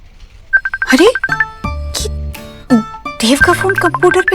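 A phone call ringing through a computer in an office, a bright repeating electronic ringtone melody heard under and between people talking.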